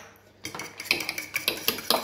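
A mixture is stirred in a dish for a zucchini and ground meat dinner, with a spoon or whisk scraping and clinking steadily against the bowl in a rhythmic series of close, moderately loud strokes.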